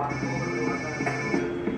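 A mobile phone ringtone rings steadily and loudly throughout, a continuous electronic melody with faint background murmur.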